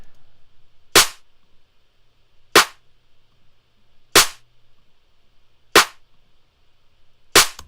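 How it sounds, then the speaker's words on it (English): A snare drum processed with soft clipping is struck five times at steady intervals, each hit a sharp, bright crack with a short decay over near silence. "let's see what this snare sounds before and after"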